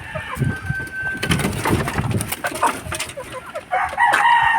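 Pure white Kelso gamefowl rooster calling outdoors, a crow-like cry rising among other bird and poultry noises, fairly close and moderately loud with no talk over it.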